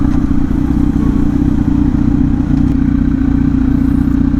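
Loud motorcycle engine on a road trip, a steady close droning rumble that holds constant throughout with no breaks, heard alone.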